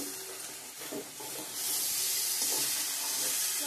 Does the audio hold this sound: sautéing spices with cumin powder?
yes